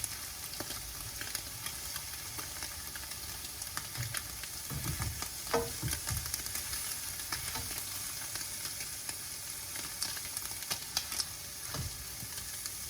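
Shrimp frying in a pan for fried rice, a loud steady sizzle with crackling pops and occasional scrapes of stirring, close and continuous.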